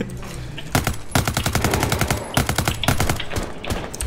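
Rapid automatic gunfire from Rainbow Six Siege, loud and close, with several long bursts of shots broken by brief pauses.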